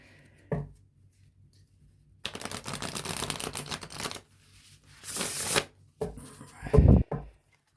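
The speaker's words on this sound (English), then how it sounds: "let's give these a good shuffle." Bursts of tarot cards being shuffled, a riffle and a couple of quick bridges, close and fairly loud with short quiet gaps between them.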